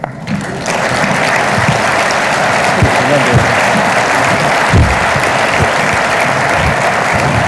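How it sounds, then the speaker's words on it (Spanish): A lecture audience breaks into loud, sustained applause after a mathematics talk on the ternary Goldbach problem, a dense wall of clapping that starts abruptly and keeps going evenly. "fuertes palmas"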